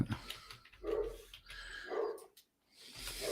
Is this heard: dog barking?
yes